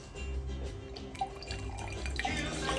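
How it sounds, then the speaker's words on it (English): Wine poured from a resealed leftover bottle through a small aerator into a glass, a steady close liquid trickle with faint drips throughout, no talking. "I'm gonna pour me a glass"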